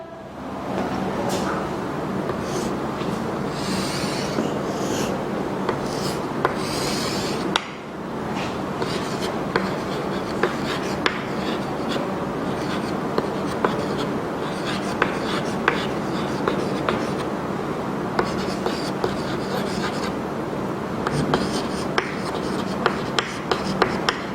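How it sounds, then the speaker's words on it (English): Marker or chalk scratching and tapping steadily across a classroom board while drawing a formal letter layout, with short squeaks and taps throughout and a voice speaking over the drawing. "I am drawing here."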